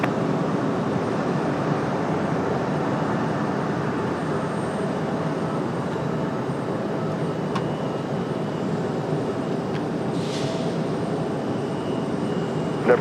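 An airliner takes off from runway 5 left at Raleigh-Durham, its engines giving a loud, steady roar that holds evenly throughout with no voices.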